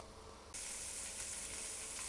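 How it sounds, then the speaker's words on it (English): Sliced onion sautés gently in a pan for onion gravy, a soft continuous sizzle that swells a little louder after the first half second, with no voices. "small chopped onion sliced. So I'm going to saute those gently."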